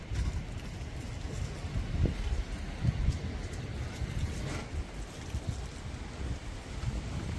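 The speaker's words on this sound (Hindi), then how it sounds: "कोसी रिवर पे हवा चल रही बहुत तेज" Strong wind sweeps over the Kosi River, giving a steady, low, fairly faint rush of wind noise with gusty buffeting on the microphone and no talking.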